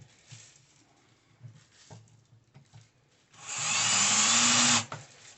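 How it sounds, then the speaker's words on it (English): A screw is driven and tightened into a wooden panel while assembling a 13-gallon Homefort unit, with a few soft knocks and handling sounds, then a louder sustained grinding whir near the end. "put the tip of the screw into the hole. Go ahead and tighten her down just a little bit."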